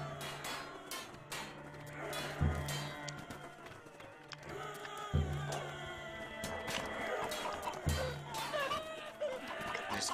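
A chicken man unit in the PC battle game Totally Accurate Battle Simulator clucks again and again through a busy battle mix, with loud, evenly spaced bursts about every two to three seconds over constant clatter.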